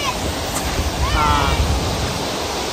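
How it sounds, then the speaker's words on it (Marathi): River water flows and rushes steadily at an outdoor riverside, a constant broad wash with some wind buffeting the microphone, and voices are faintly heard over it. "नदीवर पोहोचलोय आणि आमचं तन्मय उडी मारायला चाललाय"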